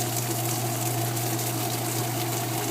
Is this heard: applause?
no